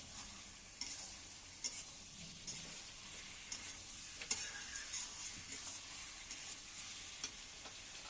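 Poppy seed paste goes into a pan of frying pointed gourd, giving a quiet, steady sizzle broken by occasional scraping ticks of stirring, with no talk.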